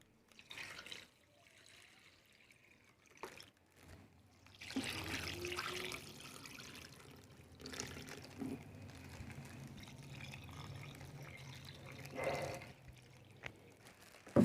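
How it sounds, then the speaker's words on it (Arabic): Warm milk poured over rice in a pot for a baked rice dish, a steady soft liquid trickle and splash that runs for several seconds at close range with no talk over it. "هنزل عليهم بشويه لبن دافيين اهو"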